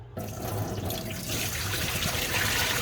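Collected water from a dehumidifier tank pours out in a steady, splashing stream into a sink or drain, continuous and fairly close, with no talking.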